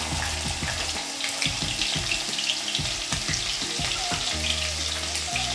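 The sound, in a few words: green chilies frying in hot oil with cumin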